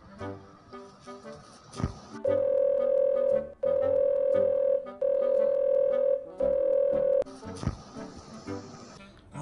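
A telephone rings out on an outgoing call in a Punjabi comedy sketch, with steady ringback tones repeating in four long bursts separated by short gaps, over faint background sounds.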